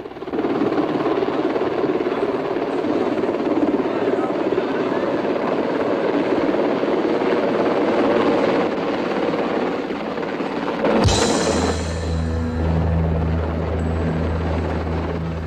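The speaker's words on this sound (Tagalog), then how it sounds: "Hanip sa dating! Naka-helicopter pa!" A helicopter roars steadily close by, its heavy engine and rotor thrum building, then a sudden sharp burst and a deep pulsing low drone take over near the end, with no talking.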